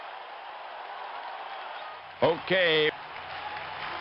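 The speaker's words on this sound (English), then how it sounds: "Just listen to that crowd." Steady crowd roar rises after a game-tying home run in a Brewers vs. Tigers matchup in the APBA Baseball for Windows computer game, continuous and fairly loud, with a brief spoken word partway through.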